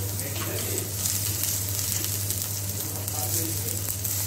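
Chopped garlic dropped into hot white cooking oil sizzles with a steady, hissing crackle throughout, with a low kitchen hum underneath and no clear speech.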